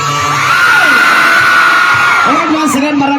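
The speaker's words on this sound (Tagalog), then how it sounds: "Isang hiyawan mga parcha!" A live concert crowd in Hong Kong whoops and shouts loudly, with a sustained cheer rising and swelling for about two seconds, then scattered yells and a few voices near the end.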